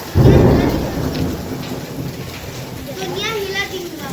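Loud thunder rumbles close at the start of a rain and hail storm, then fades into steady rainfall pattering on surfaces, with faint voices in the background.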